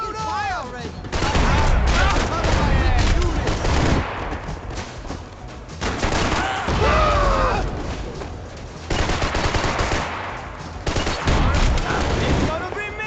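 Rapid bursts of gunfire and loud explosive booms from the video game Max Payne 3, played on hardcore difficulty, repeat in heavy volleys throughout with short lulls between them.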